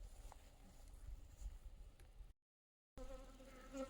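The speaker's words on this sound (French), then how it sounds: "On entend les abeilles." Faint, steady buzzing of bees in open air, broken by a short silent gap before the droning resumes.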